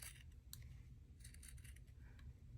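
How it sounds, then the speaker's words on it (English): Wide-blade scissors snip through paper, several sharp crisp cuts in close succession, quiet and near over a low background hum. "I think that I want to use some wide blade scissors"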